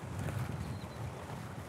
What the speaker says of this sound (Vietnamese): Ui gió to quá các bác ơi.